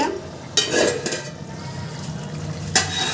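A lid clatters onto a pot of simmering vegetable and ground-fish curry, two sharp metallic knocks over a constant low bubbling and sizzling.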